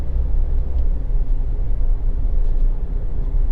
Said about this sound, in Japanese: ロードノイズはコンパクトや軽自動車の中ではかなり静かです。